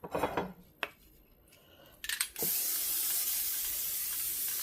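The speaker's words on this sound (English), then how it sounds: "Let's spray our 9x13 glass pan." A few light clinks and short spritzes, then a long steady hiss of cooking spray from a can into a 9x13 glass pan, close and continuous to the end.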